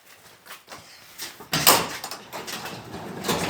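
An overhead garage door being opened with rattling, scraping movement, starting with quieter clunks and then a sharp metallic bang followed by continued rolling and rumbling noise nearby.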